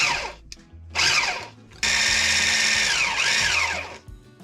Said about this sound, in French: c'est le saladier qui tourne